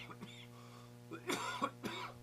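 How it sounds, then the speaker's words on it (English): A few dry coughs and throat-clearing bursts in short succession, close and fairly quiet over a steady electrical hum. "I got my cough back again today."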